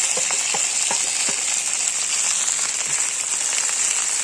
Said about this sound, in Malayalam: ഇതൊക്കെ കൂടിയിട്ട് വഴറ്റിയെടുക്കണം.